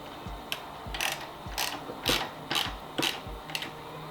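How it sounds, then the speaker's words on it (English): A ratchet tightens a bolt during a Royal Enfield Continental GT fork boot install, with crisp rapid clicking strokes repeating in an even rhythm about every half second, close and alone. "just tighten down one of the bolts"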